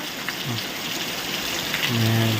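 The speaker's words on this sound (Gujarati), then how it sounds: "મસ્ત મજાનો ધીમી ધારે વરસાદ ચાલુ થઈ ગયો છે" Light, steady rain falls outdoors at Botad, a continuous soft hiss of drops that stays even throughout, with a low droning hum joining near the end.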